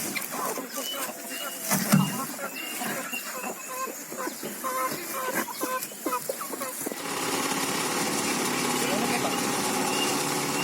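A feed mixing machine runs while crushing clumped tofu dregs for fermented duck and chicken feed, with an uneven knocking rumble that gives way to a steady, louder mechanical drone. Chickens cluck nearby.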